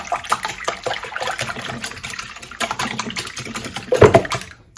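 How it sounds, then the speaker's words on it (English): A whisk beats crustless broccoli cheddar quiche batter in a bowl, giving quick, fast-repeating clicking strokes that stay close and steady for several seconds before a louder final burst. "All right, so we're just going to give this a quick little whisk."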